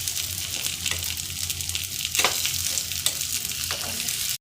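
Appe batter frying in a pan with a steady close sizzle while the pieces are flipped one by one, with soft scraping clicks of the turning tool under the constant crackle.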